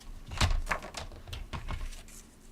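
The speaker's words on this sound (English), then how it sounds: "let's just trim off 2 inches on the side here" A paper trimmer slicing through card stock, several quick close crisp scraping strokes in an uneven rhythm, fairly quiet, no talking.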